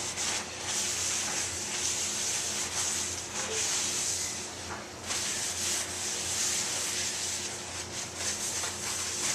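Paper towel rubbing excess off a cast iron pan during restoration, a continuous close scrubbing hiss that swells and eases as the strokes go on, with no voices.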